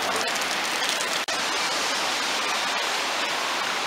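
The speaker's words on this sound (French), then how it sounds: "Il pleut. Mon appareil prend l'eau." Steady, dense rainfall hissing continuously at close range in Montauban, with a brief dropout partway through and no voices.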